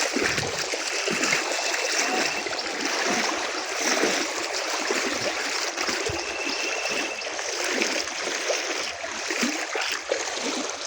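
Waist-deep floodwater on a road churns and gurgles steadily as someone wades through it, a loud continuous rushing wash with small splashes throughout and no talk.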